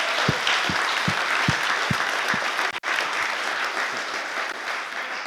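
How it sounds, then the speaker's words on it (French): An audience at a church gathering bursts into sustained applause, a dense wash of many hands clapping with a few distinct claps standing out early, steady and fairly loud throughout. "On va une bonne main d'applaudissements pour tout le monde"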